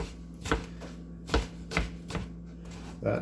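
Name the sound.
knife chopping vegetables into little chunks for homemade chili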